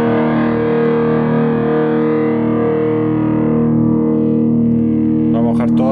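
A steady, heavily distorted electric guitar tone through a Boss Metal Zone pedal rings out continuously, thick and buzzing, with a brief burst of higher scratchy noise near the end.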